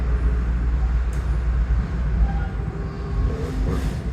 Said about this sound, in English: We're hitting some of the switches now, getting into our platform tracks.